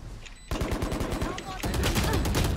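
Rapid gunfire bursts in the video game Valorant, sharp repeated shots in quick rhythmic volleys, loud and close, with a second heavier stretch of firing near the end.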